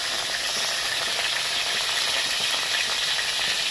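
Potatoes and cauliflower frying in a pan, giving a steady, dense sizzle that holds at even loudness throughout, close by with no talk over it.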